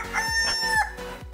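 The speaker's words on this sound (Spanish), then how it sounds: "¡Canta, gallo!" A rooster lets out a single drawn-out crow, close and clear, over a steady rhythmic low thumping in the background.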